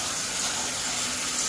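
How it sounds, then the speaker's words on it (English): Water running from a tap into a slow-draining fixture at a house in Mesa, Arizona, a steady, even rushing and splashing hiss that holds at one level throughout, with no voices. "I'm going to run that water"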